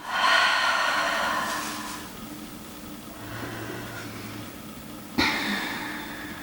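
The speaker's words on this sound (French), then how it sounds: "Un dernier cycle avec une expire un peu plus sonore." Long audible yoga breaths, a strong breathy exhale rushing out over about two seconds, a quieter drawn breath after it, then a sharp short puff near the end, close and alone.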